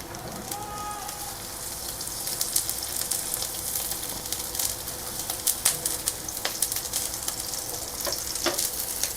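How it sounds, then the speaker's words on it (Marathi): Leftover-rice thalipeeth sizzles steadily in hot oil in a pan, a continuous close crackling fry with scattered louder pops and spits throughout. "हा असा चुर आवाज आला की आपण थालीपीठ आहे ते परतवायचं आहे."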